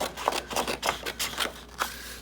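Scissors trimming scrap paper for a scrapbook sketch, with six quick, crisp snips in an even rhythm, close and fairly quiet.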